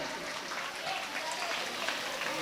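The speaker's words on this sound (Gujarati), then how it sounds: "આપણે બધાએ તાળી પાડી અને આ દીકરીઓ આપણું સ્વાગત કરી રહી છે, તો આપણે બધાએ તાળીઓ પાડીશું." An audience at a primary school Republic Day cultural program claps continuously, a fairly faint and even patter of many hands from across the room.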